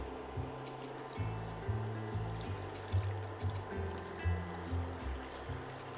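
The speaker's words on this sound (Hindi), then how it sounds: "इसमें डालेंगे हम पानी" Water is poured into a cooking pan of peanut sauce for chicken satay, an uneven trickling splash over a low, steady background.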